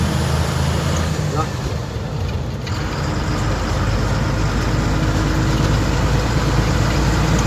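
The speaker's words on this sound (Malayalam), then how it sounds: "ലോറിയുടെ സൗണ്ട് ആയതുകൊണ്ട് അധികം കേൾക്കാൻ പറ്റില്ല" Lorry engine noise fills the cab on the road from Kannur to Taliparamba, a loud, steady low rumble with road roar that continues unbroken, briefly dipping near the start before settling into a constant drone.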